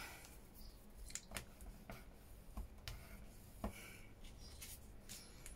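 Faint, quiet snips and soft scrapes of scissors trimming a thin sliver off folded paper card, a few sharp cuts spaced irregularly over low room noise.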